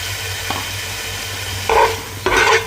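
Salt-seasoned masala with green chillies fries in a pan for a chickpea curry, with a steady sizzle and two louder bursts of stirring and scraping, close up and with no talk.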